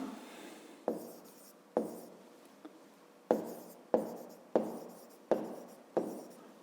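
Chalk or marker strokes writing on a board during a maths lesson, a series of about eight sharp taps each trailing into a brief scratchy stroke, at a fairly steady rhythm, close and alone.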